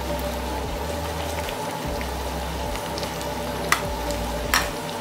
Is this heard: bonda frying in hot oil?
yes